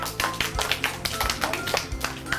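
Children clapping for a boy named Kamran walking onto a stage, a close, lively patter of many small hands in quick uneven rhythm with no talking.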